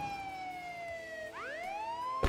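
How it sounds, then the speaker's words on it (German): A police siren from the video game Contraband Police wails in rising and falling sweeps, cutting off and restarting mid-cycle, clear and fairly close with no talking. "Und mach dann bitte die Sirene aus."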